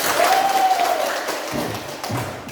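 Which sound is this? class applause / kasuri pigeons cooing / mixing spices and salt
class applause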